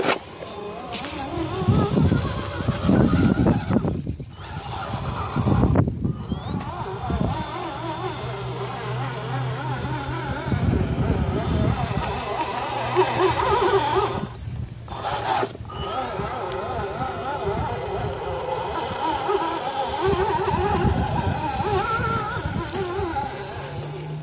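An RC rock crawler with a TenShock 906 six-pole unsensored brushless motor, driving with a whining, revving electric motor in bursts and brief pauses, along with scraping and rubbing on terrain.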